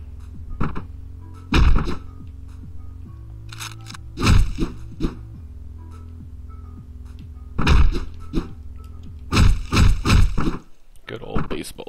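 Heavy baseball bat strikes land in the top-down game Hotline Miami, a few loud thunking blows spaced irregularly over a steady electronic music bed, with brief speech between hits.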